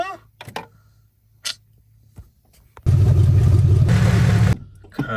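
An abandoned second-generation Mitsubishi Eclipse cranks after a few clicks and brief mechanical noises, then its engine catches with a loud, rough roar for nearly two seconds before cutting off, close by.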